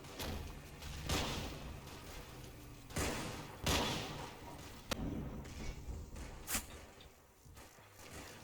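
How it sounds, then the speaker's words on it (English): Scattered bolt-action rifle shots in the Combat Mission wargame, heard as isolated sharp cracks spaced a second or two apart over a low rumbling battlefield background, moderately loud. "I only have bolt-action rifles, and fire is ineffective"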